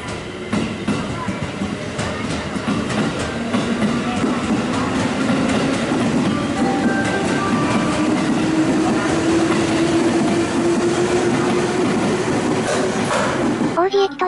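JR 221 series train pulling out of Oji station, heard from on board as a loud steady rumble with rhythmic wheel clatter and a rising motor tone over about fourteen seconds.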